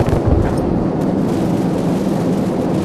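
Heavy explosions from AC-130 gunship fire in Call of Duty 4 roar as a loud, sustained low rumble, with an opening blast that rolls on without a break and no voices over it.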